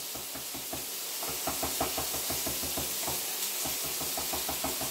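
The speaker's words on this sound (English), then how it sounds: "I'm going to keep chopping my garlic." A kitchen knife chops garlic on a cutting board with rapid, even rhythmic knocks, close and steady throughout, over a background hiss from onions sweating in a pan.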